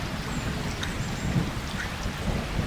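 Steady rain with low rumbling thunder fills a cartoon storm scene, a continuous wash of drops with swells of rumble and no voices.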